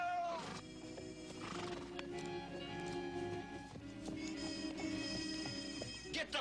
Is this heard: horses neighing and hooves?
yes